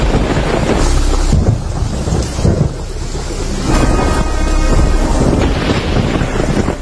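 Heavy rain falls in a forest as a loud, dense, continuous roar with deep rumbling surges and wind buffeting, no voices.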